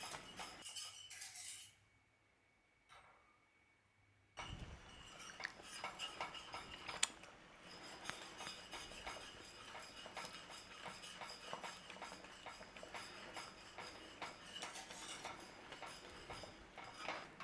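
Caramel stirred continuously in a pan for millionaire's shortbread, with a brief pause and then faint, steady scraping and clinks of a utensil against metal.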